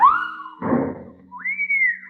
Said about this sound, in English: 'cause there was a whistling sound